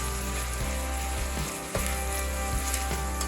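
Onions frying in a pan, a steady dense sizzle and crackle close to the mic, with a brief stir or clatter midway.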